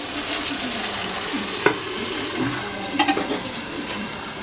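Vegetables fry with spices in a pan: a steady, close sizzle runs throughout, with a few light knocks and stirring sounds over it.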